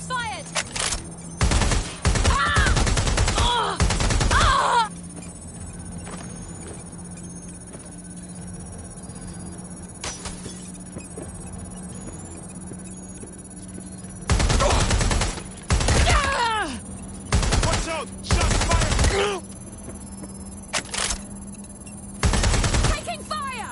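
Gunshots in a video game fight, with loud clustered volleys of rapid firing separated by quieter pauses, returning in several bursts, with voices calling out between them.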